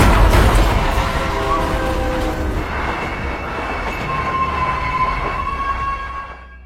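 A train rolls past a railway level crossing, a loud continuous rumble with metallic wheel squeal and screeching tones that rise and fade, heard up close with no speech.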